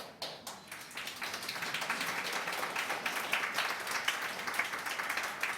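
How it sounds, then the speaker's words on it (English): Audience at a city committee meeting applauding a unit's work, starting with a few scattered claps and swelling into sustained, fairly distant clapping that keeps a steady rhythmic patter throughout. "I think we should give them a round of applause"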